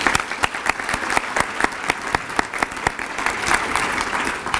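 An audience at an employees-of-the-year awards celebration gives a round of applause, dense, steady clapping from a crowd, close and lively throughout.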